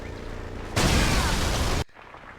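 Grenade explosion in the Halo SPV3 video game, one loud broadband blast lasting about a second before cutting off abruptly into quieter game ambience.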